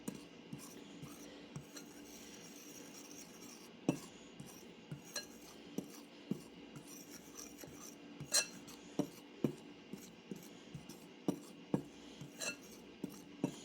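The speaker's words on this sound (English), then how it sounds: "I'll go ahead and stir all this and get it incorporated" A spoon stirs dry Southern biscuit ingredients, flour with a pinch of salt, in a bowl, giving quiet, irregular clinks and taps against the bowl that grow more frequent toward the end.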